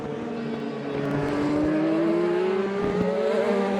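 A race car engine in a racing sim at Sonoma, with backfires turned all the way up, drones loud and steady. The pitch climbs gradually as it accelerates, and sharp pops and crackles break in over the roar.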